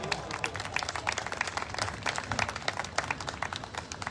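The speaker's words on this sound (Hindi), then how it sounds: "उनके लिए हम जोरदार ताली बजाएंगे।" An audience at a gospel festival in Jharkhand claps steadily, a moderately distant patter of many hands that holds even for about four seconds.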